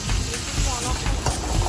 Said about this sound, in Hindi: अच्छे से गार्लिक को भैया भून रहे हैं